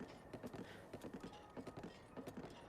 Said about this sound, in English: I have to stay on my horse.